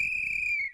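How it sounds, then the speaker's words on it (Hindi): A single sustained high whistle, steady and clear, about three-quarters of a second long and then cut off, heard close in an eerie night-time horror setting with nothing else behind it. "ये सीटी चौकीदार ने नहीं बजाई थी, ये यश था।"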